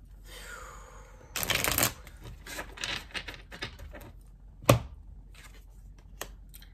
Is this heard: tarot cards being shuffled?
yes